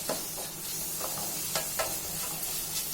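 Ginger sautéing in a pan for Kerala restaurant-style beef roast gives a steady soft sizzle, with a few stirring scrapes scattered through it and no voices.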